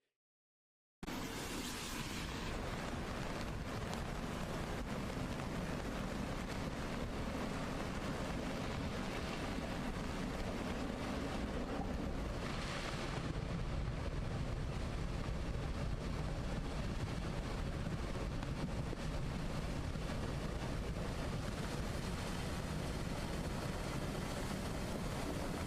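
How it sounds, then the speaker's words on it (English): Debris flow flash flood at Illgraben, a roiling mass of water, liquefied soil and large boulders sweeping downhill: a continuous, loud, broadband roar and rumble that never lets up, with no voices. "a roiling mass of water, liquefied soil, and large boulders, which tumultuously swept downhill"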